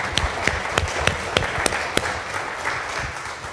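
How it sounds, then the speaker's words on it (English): Congregation at an Easter Sunday service in a United Methodist church in Delavan, Wisconsin, clapping in a round of applause for Jesus, a steady crowd patter with distinct sharp claps repeating near-rhythmically early on. "Can we give a round of applause to Jesus?"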